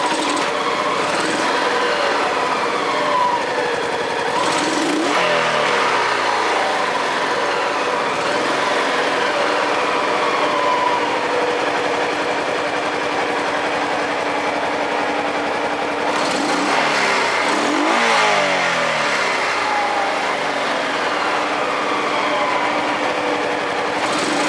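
A Honda PC800 motorcycle engine running after a carburetor cleaning, a steady high buzzing hum that revs up and falls back a few times, close and continuous with no talking.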